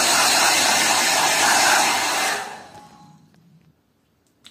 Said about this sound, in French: moi je prends toujours mon sèche-cheveux.